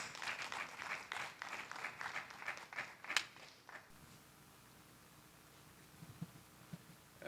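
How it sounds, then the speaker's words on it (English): Conference audience applause for a keynote speaker at an international education event: a few seconds of moderate clapping that stops abruptly midway, leaving a quiet room with faint shuffling. "A round of applause, please."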